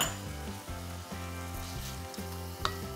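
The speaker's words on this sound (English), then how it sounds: "now my onions are quite shiny and soft, and now I put in the tomato puree" Onions fry in a pan with tomato puree just added, giving a steady close sizzle that runs the whole time, broken by short stirring scrapes and one sharp clack near the end.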